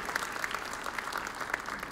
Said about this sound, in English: Let's give them a round of applause right here.